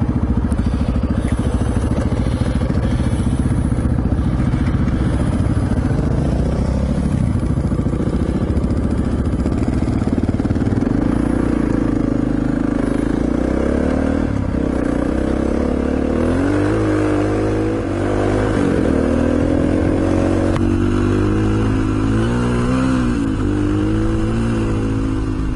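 A WR and a 590 motorcycle ride along the Condamine River Road across creek crossings, engines revving and rising in pitch over constant loud wind and rumble close to the rider.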